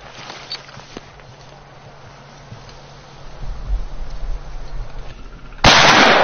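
A single loud, abrupt gunshot during a military shooting exercise at a coastal fortress, bursting out at the very end after several seconds of quiet rumbling background.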